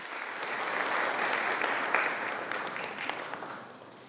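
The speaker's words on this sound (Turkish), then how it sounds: "Kıymetli alkışlarınızı rica ediyoruz" Applause from an audience of young people at a parliament speaker's meeting, a steady broadband patter of many hands that swells and holds, then fades slightly toward the end, heard alone without talk.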